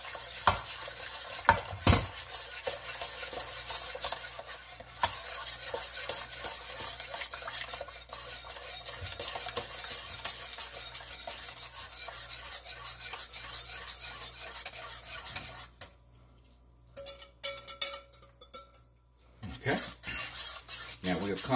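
Spoon stirring custard into milk in a pot: steady close scraping and clinking against the pan, dense and continuous, with a brief quieter gap and occasional sharper knocks.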